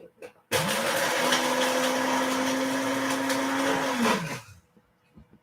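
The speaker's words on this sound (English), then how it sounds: "I just put it in my magic bullet, and now the nuts are nice and ground up" A Magic Bullet blender grinds cashew nuts in one loud, steady whirring burst of about four seconds, starting abruptly and winding down at the end, close up with no talking.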